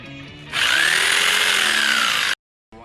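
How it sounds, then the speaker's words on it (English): A jigsaw cuts through a Suzuki Burgman 650 Executive motorcycle windshield, a loud, close, buzzing whine that starts abruptly, holds steady for nearly two seconds, then cuts off sharply into silence. "put some tape on this jigsaw so that when I run it across here"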